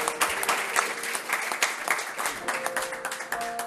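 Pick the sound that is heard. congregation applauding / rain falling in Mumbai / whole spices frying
congregation applauding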